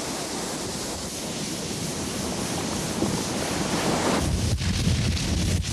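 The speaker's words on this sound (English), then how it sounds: "Heavy surf pounding against the growing shoreline may shatter and tear the Pahoehoe" Heavy surf pounds against a lava shoreline of pahoehoe flows in the tidal zone on Kilauea, a continuous broad roar of waves with wind rumble, growing louder and fuller toward the end.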